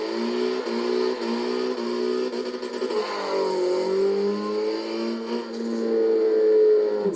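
An Opel Astra H OPC in the racing game Forza Motorsport 7 accelerates hard, its engine note climbing through several gear changes in a steady, loud run with no speech over it.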